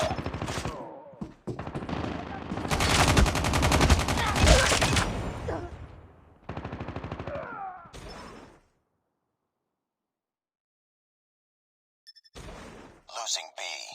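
Assault rifles firing in a video game, BK-57 and ASM-10: loud, rapid automatic bursts in close succession, then a long silence before a few final shots, with game voice callouts mixed in.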